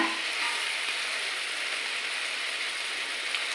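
Ginger and garlic added to melted tomato sizzle and fry steadily in a hot pan, a continuous close crackling hiss with no talking.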